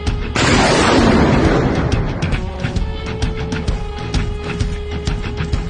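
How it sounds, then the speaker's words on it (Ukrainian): A single loud artillery shot booms out and rolls into a long roaring echo that fades over several seconds, followed by quieter clicks and crackles. "Давай, одна вогонь. Постріл!"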